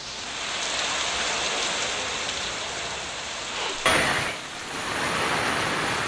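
Heavy monsoon rain in Jalgaon district, Maharashtra, falls as a dense, steady hiss. A brief louder splashing burst comes partway through before the downpour settles back to its even roar.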